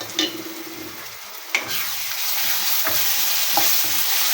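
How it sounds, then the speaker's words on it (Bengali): Garlic, ginger and cumin pastes frying in a pan for a country chicken curry, a loud continuous sizzle punctuated by a few sharp stirring scrapes, close up with no talking. "মশলাগুলো খুব ভালোভাবে নেড়ে করে মিশিয়ে নিতে হবে"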